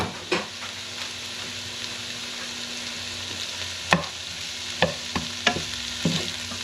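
Cooked, drained sausage stirred back into a pan for baked ziti, a soft continuous sizzle broken by scattered sharp clicks and scrapes of a utensil on the pan, close and with no talk.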